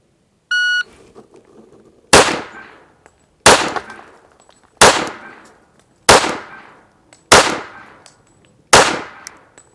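Pistol gunfire from a 1911 and a Glock 21 shooting 230 grain rounds, six loud sharp shots spaced about a second and a half apart, each ringing out, preceded by a short timer beep.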